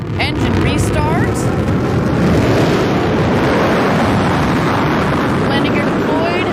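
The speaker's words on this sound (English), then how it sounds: "we're going to get the BE-3 engine to restart" A Blue Origin New Shepard booster restarts its BE-3 rocket engine on descent for landing, a loud continuous broadband roar buffeted by wind, with voices faintly audible over it.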